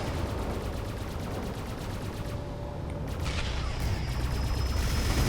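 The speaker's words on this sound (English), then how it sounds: "Here comes the scatter cannon. Oh, and the Centaur's firing." Ship weapons, including a scatter cannon, fire in a Space Engineers battle against drones, producing a dense, continuous clatter of rapid gunfire and blasts with no break across the whole stretch.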